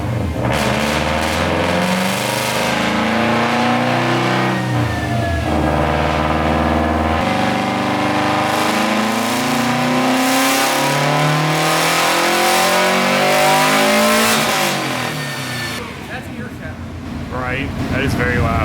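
Tuned Subaru engine on a dyno roars through long, loud revving pulls that rise and fall, then winds down toward a quieter idle near the end.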